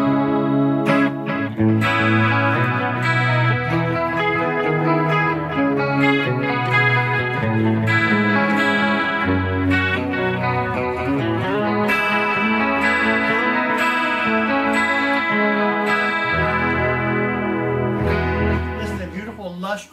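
An electric guitar plays a flowing open-string picked passage with an 80s glam metal clean chorus tone, shimmering and wavering, with a reverberant tail, ringing out and fading at the end.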